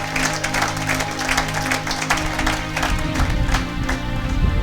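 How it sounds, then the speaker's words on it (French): A church congregation claps and cheers during a service, a dense, steady wash of applause from a large crowd that holds throughout with a low rhythmic musical hum beneath it. "Acclamez pour la gloire de l'Éternel notre Dieu et notre Seigneur."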